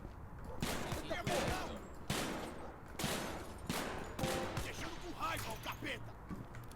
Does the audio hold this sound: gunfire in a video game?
yes